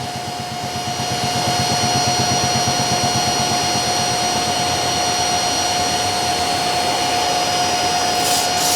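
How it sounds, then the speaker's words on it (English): A loud, steady machine whir with a high whine runs continuously from a Samako Powerclean PRO carpet cleaner steaming and vacuuming, close and unbroken throughout. "I changed the setting now to steam and vacuum to give it a nice steam after it"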